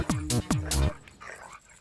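A dog in a Hindi-dubbed action film gives two quick sharp barks, each sliding down in pitch, close and loud, followed by quieter background sound.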